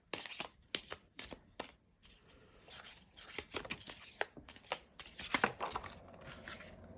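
Tarot cards are shuffled by hand at close range, a run of quick papery riffles and soft slaps in uneven bursts, quiet and crisp with no talking.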